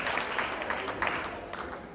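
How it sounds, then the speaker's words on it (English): A crowd claps steadily at an anniversary celebration, a dense patter of applause filling the whole moment at moderate volume. "A round of applause."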